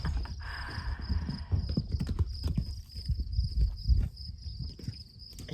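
A horse trots laps inside a carport shelter, its hooves clip-clopping in a steady, fairly close rhythm, with a constant high insect or cricket buzz running throughout.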